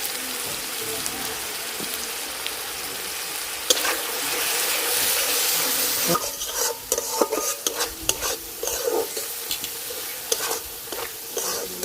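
Spices with ginger-garlic paste, turmeric, red chili and coriander powder fry in a pan for egg bati bhapa, crackling steadily under close, irregular stirring and scraping strokes, with no speech.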